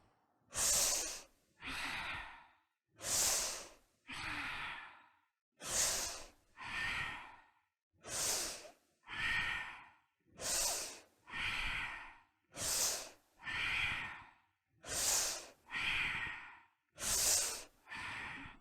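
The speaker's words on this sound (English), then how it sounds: "Full inhale and exhale are equal. Inhale up, reach up, exhale" Children's yoga breathing exercise with deep, even inhales and exhales, about fourteen long breath bursts in a slow, steady rhythm, close and alone with no talk.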